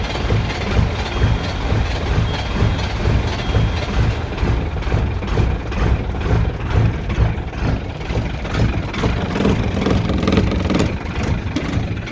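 A Ford vehicle's engine runs at a steady, loud idle on a cold 40-degree day, with a continuous low rumble throughout.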